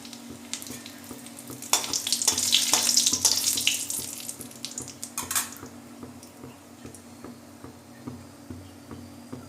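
Whole cardamom pods and cinnamon sticks hit hot oil in a pan, giving a burst of crackling sizzle that peaks early and then settles into a steadier, quieter frying hiss.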